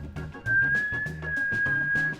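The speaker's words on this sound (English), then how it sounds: "Yeah, she can whistle." A woman whistles one long, steady, clear tone close to the microphone, over low background murmur and clatter.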